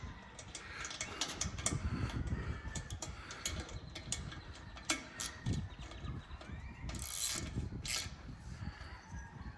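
A ratchet socket wrench clicks away in short irregular bursts while an LED light bar is mounted on a mower or ATV, close and fairly steady, with some scraping and clunks of handling mixed in.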